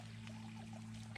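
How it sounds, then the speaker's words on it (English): A small woodland creek in a forest runs close by, steady trickling and pouring water in a continuous gurgling wash with a low constant hum underneath and no voices. "You can hear the water."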